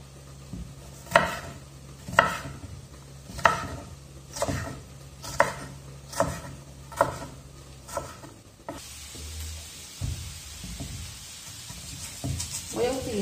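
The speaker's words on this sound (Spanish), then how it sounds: "Este chile lo voy a partir así en trozos, en cuadros" A knife chops a chile pepper into squares on a cutting board: a steady series of sharp, close taps at an even rhythm, then the chopping stops and a soft hiss of sizzling takes over. A voice speaks faintly beneath.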